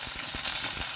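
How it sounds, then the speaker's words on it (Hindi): Curry leaves crackle and sizzle in hot oil with mustard seeds in a pan, a loud, close frying hiss with a few sharp pops. "अब इसमें डालते हैं कड़ी पत्ता।"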